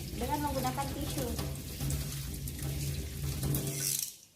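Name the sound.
running tap water rinsing hands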